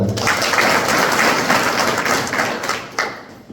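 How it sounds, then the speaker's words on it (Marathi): Loud, dense applause from a crowd at the opening of a community Dnyaneshwari recitation event, a continuous wash of clapping that thins slightly toward the end. "सर्वप्रथम तुमच्यासाठी जोरदार टाळ्या"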